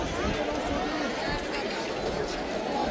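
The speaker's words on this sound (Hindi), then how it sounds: "बाकी देखिए बाज़ारों में भी अच्छी खासी भीड़ है" Busy crowd in the markets of Haridwar, a continuous murmur of many voices and bustle with scattered footsteps, close and fairly loud.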